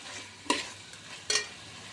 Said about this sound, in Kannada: ಚಿಕನ್ ಎಲ್ಲ ಫ್ರೈ ಆಗ್ತಿರಲಿ.